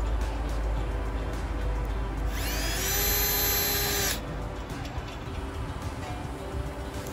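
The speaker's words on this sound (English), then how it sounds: "take your drill with your screw on the end and just drill through the hole" An electric drill driving a screw through a hole into a small rustic wooden bird feeder whines steadily for about two seconds, its pitch holding level over a background of low, rumbling room noise.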